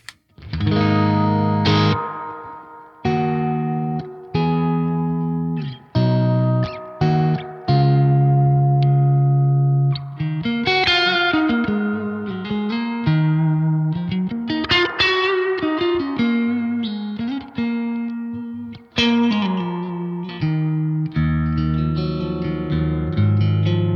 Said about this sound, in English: Right, so that's the reverb